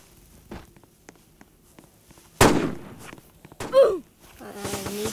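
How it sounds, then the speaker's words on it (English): Roblox game gunfire sounds out in a few sharp, loud bangs spread over several seconds, alone against a quiet background, with a faint trailing tone at the end. "I'm gonna go down and shoot these people."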